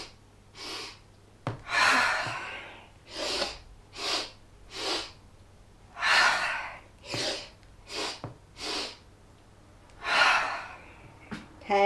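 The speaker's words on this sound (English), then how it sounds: "So 3-part inhale through the nose, if it's possible. 1-part exhale through the mouth and just let it all go." Yoga breathing done as a demonstration, with repeated sharp nasal inhales in three parts followed by breathy mouth exhales, close and clear in a quiet room, forming an uneven rhythmic series of airy bursts.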